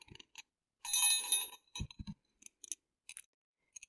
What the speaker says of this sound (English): I do like bells.